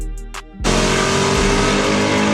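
A 1966 Ford Fairlane 500 R-Code muscle car engine roars to life after a brief quiet moment, then holds a loud, rough, sustained rev close by.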